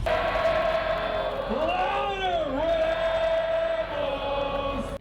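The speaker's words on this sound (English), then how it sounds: "There was crowd participation in the chant" Crowd at a college basketball event joins in a sustained group chant, voices rising and swooping together over steady arena noise, loud and continuous throughout.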